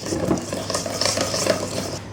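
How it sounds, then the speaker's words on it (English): Vanilla sponge cake batter being mixed with a regular whisk in a bowl, a steady close scraping and stirring texture running continuously with soft clinks, no talking. "mix that all together, and our batter is ready"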